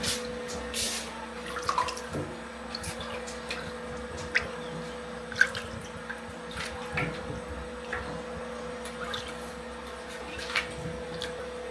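Washed goat meat left to drain gives off faint, scattered drips and small wet squishes over a low steady hum, quiet and close, with no talking.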